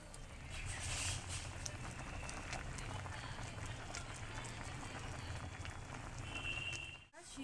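Elephant apple (chalta) pieces boiling in a pot with a pinch of saffron, giving a steady close bubbling patter that runs continuously, with a brief clunk near the end.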